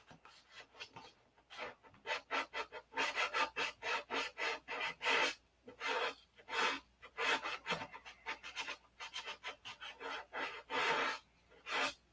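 Hand sanding on a P-47 model, a steady run of dense, raspy strokes in quick back-and-forth rhythm, close and fairly loud, with short pauses between bursts and no talking.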